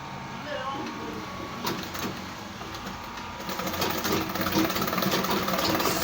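A sewing machine stitches down the pointed end of a single welt pocket, a steady mechanical whir that grows louder and faster partway through, close up, with a voice talking over it.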